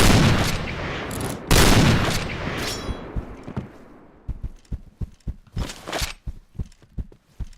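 Loud gunshots in a game: heavy bursts of fire at first, then a rapid string of sharp, separate pistol shots with no talking.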